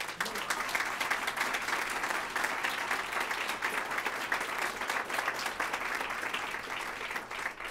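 Sustained audience applause at a talk on democracy and human rights in Brazil, steady and dense from a large crowd throughout, moderately loud and fairly distant.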